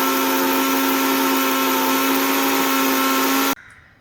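A mixer grinder runs loud and steady, grinding a paste of onion, ginger and garlic for a crab rasam soup, with a constant whirring hum that cuts off abruptly near the end.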